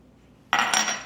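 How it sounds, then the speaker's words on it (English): Melted coconut oil poured into keto oatmeal chocolate chip cookie dough, arriving as a sudden close splash and bright liquid rush that carries on steadily after a quiet start. "Now, I'm going to move the spoon away and pour in the coconut oil."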